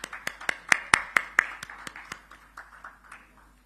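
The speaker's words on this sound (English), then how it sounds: "Let's invite each person with a big round of applause." Scattered hand claps from an audience at a South India media summit, about a dozen distinct sharp claps in a loose, slowing rhythm that thin out and fade over a few seconds, fairly near and moderately loud.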